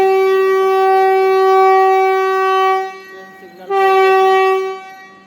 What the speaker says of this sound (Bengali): ট্রেন কিন্তু এবার আমাদেরকে ছেড়ে একদম আলবিদা করে দিচ্ছে।